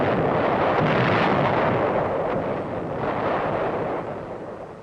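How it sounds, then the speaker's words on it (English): Heavy artillery shells roar overhead in a combat engagement, a dense continuous rumbling blast that stays loud and close before tapering slightly toward the end, with no talking. "The sound of shells going over can be a mighty friendly sound"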